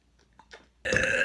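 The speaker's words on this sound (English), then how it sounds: "Sorry, I just burp sometimes." A single loud, close burp bursts out after a moment of quiet, faint mouth and swallowing noises.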